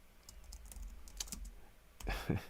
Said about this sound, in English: I am not typing well today.